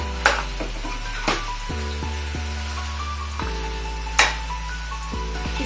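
Chicken fries in hot oil for a red chilli curry, a steady close sizzle with occasional louder spattering pops and a few clinks from stirring.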